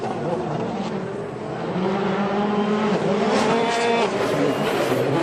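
A rally car at Rallye Portugal 2014, stage one, roars steadily through a chicane, a dense, sustained engine and road noise mixed with crowd sound and faint commentary.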